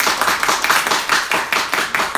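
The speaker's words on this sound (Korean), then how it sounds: "우리 남자 성도님들 박수 한번 줍니다" Church congregation clapping together during a Sunday service, a steady run of hand claps with a slightly uneven rhythm, close and fairly loud, no voices over it.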